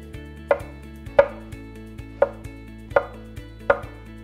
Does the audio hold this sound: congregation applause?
no